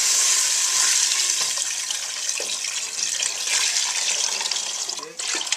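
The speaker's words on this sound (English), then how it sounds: "Now I add water." Water pours steadily into a soup pot for about five seconds, a continuous close splashing gush that trails off at the end, with no talking.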